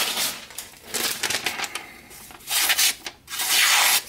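A D9 knife blade freshly sharpened on waterstones slices through material in a cut test, giving short scraping, rasping strokes in quick bursts that grow louder toward the end.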